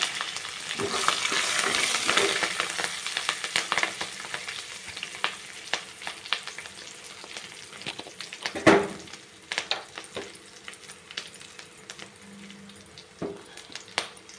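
Curry leaves, turmeric and salt fry in hot oil for gongura pulihora, a close, steady crackling sizzle with scattered sharp pops and occasional spoon scrapes and stirring against the pan.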